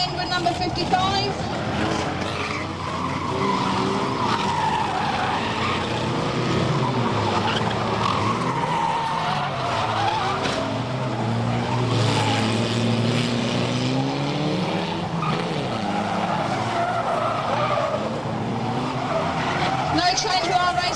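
A stock car spinning out on the bottom bend of Fleet Raceway during a race meeting, engines roaring and tyres skidding continuously amid the pack, with a commentator talking over the noise throughout.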